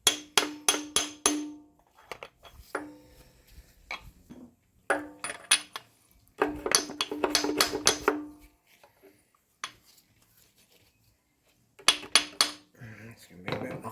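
Sharp metallic taps of a socket driving a sealed core plug into a Land Rover 300 Tdi engine block, coming in quick clustered bursts of ringing strikes with short pauses between groups, close and loud.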